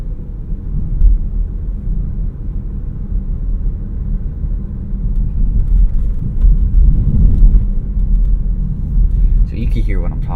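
Cabin of a 2017 Dodge Charger V6 cruising slowly through South Beach, with a steady low engine and road rumble that swells a little midway, heard from inside and continuous, with a short bit of speech near the end.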